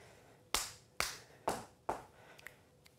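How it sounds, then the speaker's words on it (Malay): Body percussion in a music lesson: four sharp, evenly spaced claps or stomps ring out one after another, followed by a couple of fainter finger snaps, close and clear with no talking. "Saya nak tunggu guna tangan, petik jari dengan hentak kaki."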